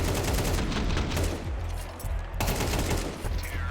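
Rapid gunfire in the Counter-Strike video game, dense bursts of close, loud automatic shots crackling almost continuously with a brief break partway through.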